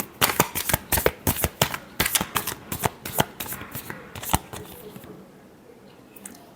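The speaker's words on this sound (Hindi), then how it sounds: "Last shuffle." Tarot cards shuffled by hand in a run of quick, crisp riffling flicks, close and fairly loud, thinning out into quiet near the end.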